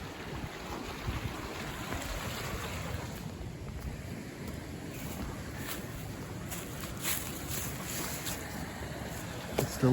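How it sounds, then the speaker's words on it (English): Water rushes continuously over a spillway by a pond in a cold forest, a broad, steady roar heard from a short distance, with some wind noise and no talking. "It's the lovely sound of rushing water."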